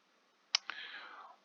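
A computer mouse click, one sharp near click followed by a softer second one, then faint breathy voice trailing off in an otherwise quiet room.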